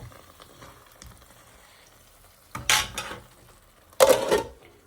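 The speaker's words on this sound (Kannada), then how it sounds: "ನೆನೆದು ಕೋಳಿ ಸಾರು ಇತ್ತಲ್ಲ ಅಂತ ಸ್ವಲ್ಪ ಬಿಸಿ ಮಾಡ್ತಾ ಇದ್ದೇನೆ." Leftover chicken curry reheating in a pan gives two loud bursts of sizzling, separated by quiet stretches of faint kitchen clatter.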